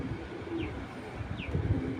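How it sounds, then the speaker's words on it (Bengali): Pigeon cooing from a large racing pigeon in a loft collection, soft low coos repeating steadily and close by, with a couple of faint higher chirps from other birds. "খুব সুন্দর কবুতরটা বিগ সাইজের"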